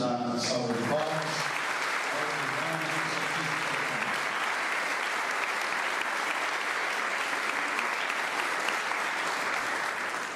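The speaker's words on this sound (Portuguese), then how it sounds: "Podemos dar uma salva de palmas." A church congregation at a Holy Thursday foot-washing Mass breaks into sustained applause, a dense, even clapping that fills the room after a brief spoken line at the start.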